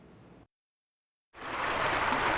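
Cane Creek in Fairview rushes loudly and steadily after a brief silent gap, a broad close wash of flowing water.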